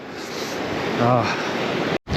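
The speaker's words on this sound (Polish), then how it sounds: "Jest kosmicznie zimno, w wiatr, fale chlapią" Cold wind and sea waves splashing on a shore at Mechelinki, a steady broadband roar of surf and wind buffeting the microphone, with a brief dropout near the end.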